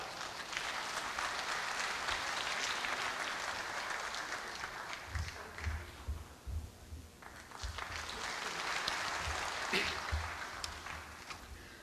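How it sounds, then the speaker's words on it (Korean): Sustained audience applause filling a large hall at a university's 110th anniversary ceremony, steady and broad throughout, welcoming a speaker onto the stage with no talk over it. "큰 박수로 무대 위로 모시도록 하겠습니다."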